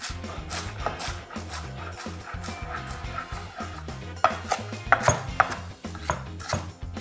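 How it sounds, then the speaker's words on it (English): Celery leaves being roughly chopped with a knife on a board, a series of quick irregular taps and knocks, close and fairly quiet, with no talk. "Celery leaves, I'm going to roughly chop them."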